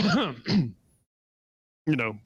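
A voiced throat-clearing cough made by a man imitating someone at the back of a room, a single short rasp between stretches of speech.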